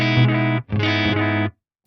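Electric guitar played through an Eventide Rose pedal with its filter darkening the tone: two sustained distorted chords, the second following a short gap, both cutting off cleanly into silence.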